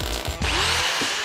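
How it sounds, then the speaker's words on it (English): An angle grinder works over freshly welded metal chevrons, starting with short bursts and then settling into a loud, continuous whirring grind close by, with no talking. "An angle grinder quickly smartens them up."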